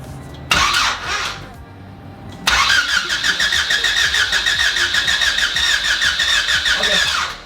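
Car engine cranking on its first startup attempt, loud and close: a short burst of starter whirring, a pause, then a long run of rapid, rhythmic cranking that keeps going without catching.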